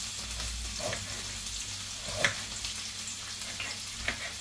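Quiet, steady sizzling of onion frying in a pan, with occasional soft clicks and scrapes of stirring.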